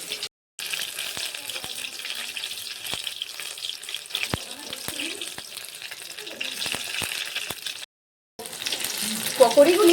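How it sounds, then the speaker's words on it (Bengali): Mushroom pakoras deep-fry in hot oil as they are turned, a dense, loud, crackling sizzle with sharp pops, broken by two short silent cuts. "এরপর অপর সাইডটা ভেজে নেবো খুব ভালোভাবে।"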